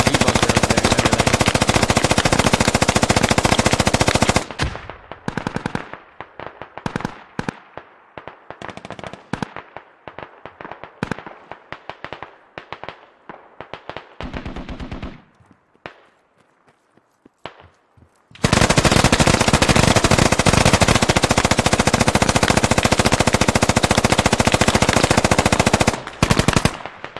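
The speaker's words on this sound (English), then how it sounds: "there's a fucking MG bunker over there" Heavy machine gun fire from a bunker in a large-scale military shooter game, long continuous bursts loud and close, dropping to scattered distant shots mid-clip before the sustained roar returns.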